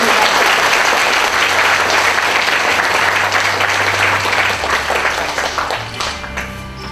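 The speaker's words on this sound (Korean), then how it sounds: "큰 박수 부탁드립니다." Sustained, loud applause from an audience at a Korean government innovation award ceremony, a dense continuous wash of clapping that holds steady and then slowly fades toward the end.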